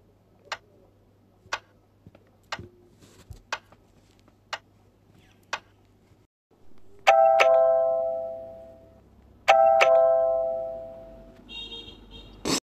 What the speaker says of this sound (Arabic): ايه ده مين اللي بيرن الجرس دلوقتي